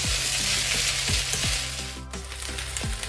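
Udon noodles with lettuce and green onions stir-fried in oil with egg, giving a steady loud sizzle with several sharp scrapes and clanks of a spatula tossing them in the pan.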